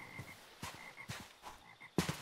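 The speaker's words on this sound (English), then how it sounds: "I hear frogs." Frogs croak in the RLCraft video game, a series of short, rhythmic croaks repeating at moderate loudness, with a louder, closer burst near the end and no talking.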